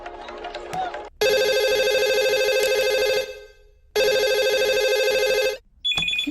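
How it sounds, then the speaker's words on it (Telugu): A mobile phone rings unanswered in a Telugu movie scene, two long bursts of a loud electronic ringtone separated by a short gap, with brief voices and noise before and after. "అరే జల్ది ఫోన్ ఎత్తండి రా బాయ్"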